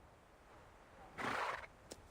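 A horse in the video game Reverse 1999 gives one short, breathy whinny, fairly quiet and alone, followed by a faint brief snort.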